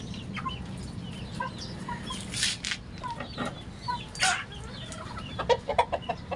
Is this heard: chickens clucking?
yes